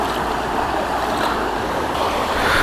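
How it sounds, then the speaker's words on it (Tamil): River water near Marthandam flows forcefully, producing a loud, continuous broadband rush that stays close and steady, with no voices. "தண்ணி எவ்வளோ ஃபோர்ஸாக இருக்குது பாரு, இந்த இடத்துல எவ்வளோ ஃபோர்ஸாக போகுது."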